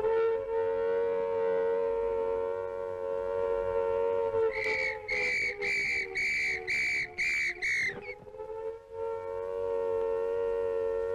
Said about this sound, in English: The warning may also be given by short blasts on police whistles.